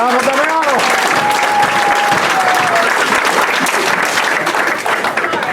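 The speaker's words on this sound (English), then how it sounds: "since we have applauded again and again and again" Audience applauding at a public town meeting on a proposed Starbucks development, loud sustained clapping from a crowd, with a brief voice tone at the start.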